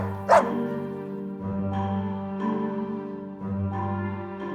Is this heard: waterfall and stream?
no